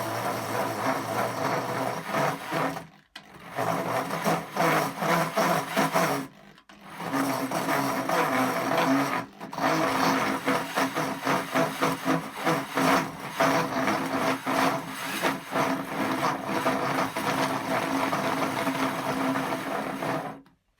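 A hole saw in a hand drill bores through wood in a long, steady grinding rasp, broken by three brief pauses where the cut stops and restarts, fairly close and loud with no talking.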